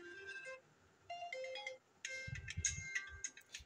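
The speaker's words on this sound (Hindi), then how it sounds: "आपको ये वाली रिंगटोन सुनाई देगी" A ringtone plays from an Oppo F17 smartphone: a short melodic electronic tune of bright plinking notes in a couple of phrases, clear and fairly quiet, with no talking over it.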